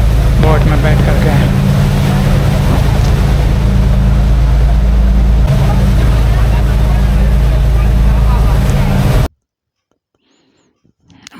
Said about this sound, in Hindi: बोट तेज़ी से भाग रहा है।